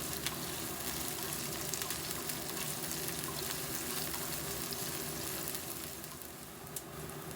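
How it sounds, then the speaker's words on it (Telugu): Thinly sliced onion with green chillies and mint frying in a pan for chicken pulao, giving a steady, quiet, continuous sizzle and hiss with no break and no voices. "వేసుకొని వీటిని బాగా ఫ్రై చేసుకుందాము."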